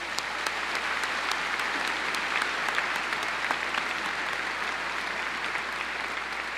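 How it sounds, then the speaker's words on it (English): Audience applause at the 2016 Fishers High School graduation ceremony, sustained, even clapping from a large crowd heard from some distance, with no voices over it. "Please join me in giving our honored guests a round of applause."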